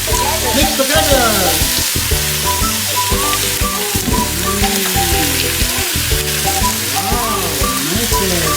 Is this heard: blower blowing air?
no